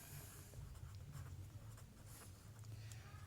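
Writing strokes scratch across a board during a tenth-grade mathematics lecture on a geometry theorem, coming as faint, irregular bursts of scraping with no talking over them.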